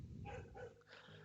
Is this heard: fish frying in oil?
no